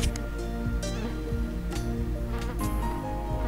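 Buzzing flies in a jungle-themed video game, a busy insect drone layered over dense game music and effects, with short bursts and clicks scattered through it.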